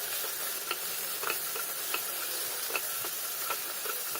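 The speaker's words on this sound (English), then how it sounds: "Fry the tomato well." Tomato frying in a pan with turmeric and soup cubes for a Goan arroz pulao: a steady soft sizzle with faint regular scrapes and ticks from stirring, and no voices.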